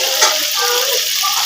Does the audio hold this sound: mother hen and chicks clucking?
no